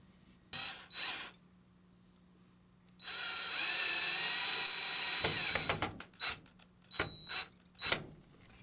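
A power tool drives a mounting bolt on a Minn Kota Terrova trolling motor, with short whirring bursts followed by a longer sustained run of about three seconds and then several more quick pulses, all close by.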